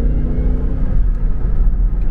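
The supercharged engine of a Jeep Grand Cherokee Trackhawk rumbles loudly and close up, a deep steady drone with a faint whir on top and slight swells, with no voices over it.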